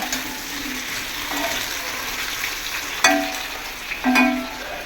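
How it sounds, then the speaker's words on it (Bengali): Potatoes for a mutton curry sizzle steadily in a pan, broken by two sharp metallic clinks of utensils against the pan. "মাংসের আলু ভাজা হচ্ছে"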